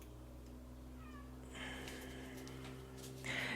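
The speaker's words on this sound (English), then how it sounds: "Sorry if you hear that cat meowing and screaming outside." A cat meowing and screaming outdoors, distant drawn-out cries rising over a steady electrical hum, growing a little louder toward the end.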